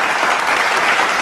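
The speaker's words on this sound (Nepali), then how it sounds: "हामी उहाँहरूलाई ताली बजाएर स्वागत गर्छौँ" An audience claps in welcome, a dense, loud burst of applause lasting a brief moment with no voices over it.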